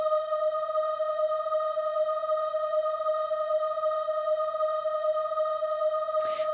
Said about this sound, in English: That's 639 hertz.